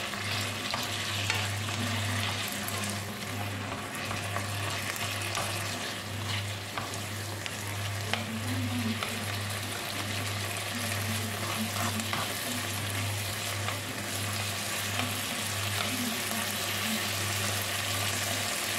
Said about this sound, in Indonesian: Aduk-aduk hingga merata